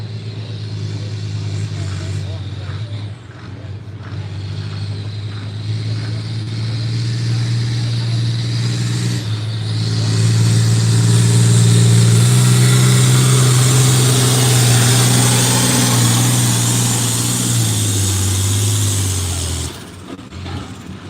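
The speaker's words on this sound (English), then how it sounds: "Artemis on his International 1066." An International 1066 tractor at a farm stock tractor pull roars steadily and loudly, the engine note climbing into a sustained high-revving pull for most of the run before cutting off near the end.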